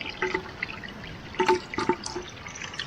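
Water trickling from a mountain spring, a soft continuous flow with small dripping and splashing accents, heard close and moderately quiet without any talking.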